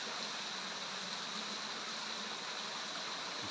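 A waterfall in the bush, a steady broadband rush of falling water that stays constant and moderately distant with no talking over it.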